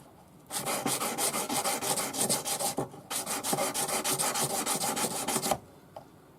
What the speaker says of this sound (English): we're going to take our 400 grade paper on a sanding stick